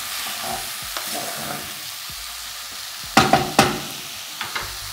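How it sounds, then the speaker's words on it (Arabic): Okra stir-fried with meat in a pot: a soft steady sizzle with a few close utensil scrapes, then a quick cluster of loud clanks and knocks of a spoon against the pot near the end, with no talking. "احط البامية، هشوح كله مع بعض"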